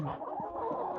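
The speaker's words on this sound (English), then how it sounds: "Oh yeah, Scott, it is a giant goose" A giant goose calls from nearby on a live-streamed flock, giving a few loud, rough honks and clucking notes in quick succession, alone without talk.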